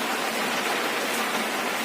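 Steady rain pours down outdoors, an even, dense hiss of drops close by with no breaks over the short stretch and no voices on top.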